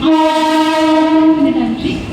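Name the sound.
Mumbai local train arriving at platform 2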